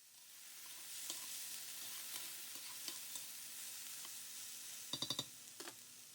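Potatoes and ham cook quietly in a pan with a soft steady sizzle, scattered light clicks and a quick burst of utensil taps near the end, faint and close.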